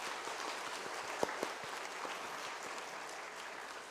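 A church congregation at a Thanksgiving Sunday service applauds together, a steady wash of clapping across the whole stretch, with a couple of sharper individual claps standing out.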